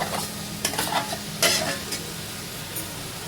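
Fried boiled tubers being stirred and spread around a pan of Surti undhiyu masala, with scraping clinks of a spoon over a soft steady sizzle, close and moderately loud.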